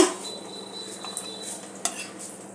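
Oiled bowls set into a steamer with cauliflower, a few close clinks and light knocks of dishware against metal over a quiet background.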